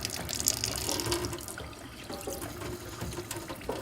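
Water runs steadily from the tap of a Kangen water machine, a continuous splashing hiss at moderate level without any talking.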